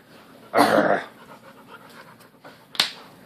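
A dog pants close by in quick breathy bursts, one loud stretch followed by softer panting and a sharp click near the end.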